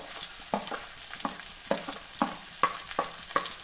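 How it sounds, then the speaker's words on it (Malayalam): Chopped onion goes into a hot pan and is stirred while cooking for a pepper chicken roast, giving a steady soft sizzle broken by a series of regular scraping stir strokes, close by and with no talking. "അരിഞ്ഞു വെച്ചിരിക്കുന്ന സവാള ചേർത്ത് കൊടുക്കാം."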